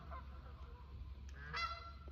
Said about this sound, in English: My friends, the geese, the ducks, I come here, I feed them.